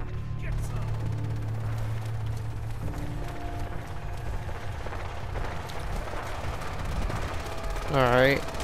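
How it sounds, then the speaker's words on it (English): Gunfire from Minutemen soldiers in the video game Fallout 4, modded with modern military gear, crackles steadily through a noisy battle, with low rumbling and a brief sharp burst near the end. "you hear a lot of gunshots going off if you deploy these minutemen soldiers"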